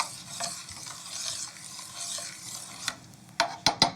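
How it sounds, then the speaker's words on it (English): A spoon scrapes and stirs water into quinoa in a pot with a faint sizzle underneath, finishing with several sharp taps against the rim. "Stir that together"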